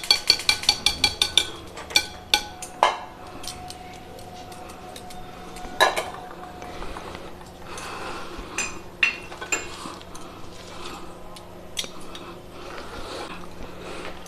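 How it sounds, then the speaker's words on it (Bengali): A spatula stirs Christmas cake batter of sugar and butter in a bowl, opening with a quick run of sharp clinks against the rim, then scattered knocks and scrapes over a quiet background hum, close and without talk. "এবার আমাকে স্প্যাচুলা দিয়ে মেশাতে হবে।"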